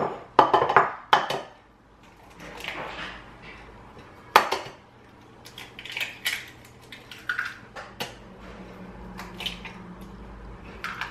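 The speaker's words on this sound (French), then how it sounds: "je vais venir casser 3 œufs" Three eggs are cracked into a bowl for batter: a series of sharp taps and knocks against the rim with light clattering and soft wet sounds between, close and fairly loud, with no one speaking.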